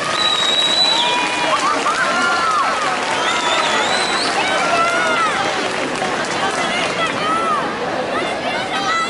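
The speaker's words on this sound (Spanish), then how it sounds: "¿Le damos un fuerte aplauso?" A large outdoor crowd at the Three Kings parade in Dénia applauds and cheers, a thick, continuous roar of clapping mixed with high children's shouts and chatter.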